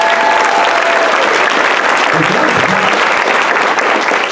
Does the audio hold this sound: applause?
yes